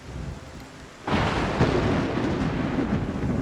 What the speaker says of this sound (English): Stormy weather.